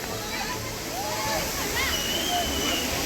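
Water rushing down small monsoon waterfalls near Neral, a continuous broad wash of flow heard close, with birdsong chirps and faint voices over it.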